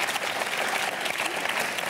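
Studio audience on a French TV show set breaking into a brief, dense burst of clapping, close and even for the whole moment, with no talk over it.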